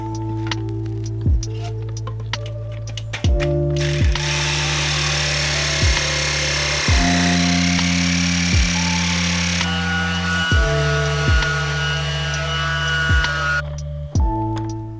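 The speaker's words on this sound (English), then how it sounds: "I'm going to cut this out with a jigsaw." A loud jigsaw buzzes steadily, stopping and restarting several times as it cuts a wooden board, with sharp pitch drops at each stop and a hum between runs.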